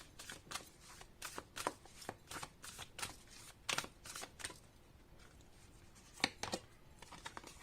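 Oracle cards from a yogic-path deck are shuffled and drawn up close, giving soft, papery flicks and riffles in irregular clusters that stay faint and are not accompanied by speech.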